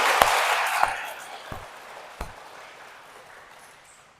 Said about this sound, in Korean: 박수 보내드릴게요